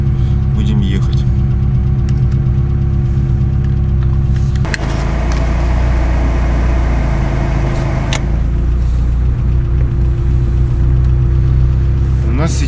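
Car interior on the move, with a steady low engine drone and road rumble continuing throughout and a few muffled sounds over it.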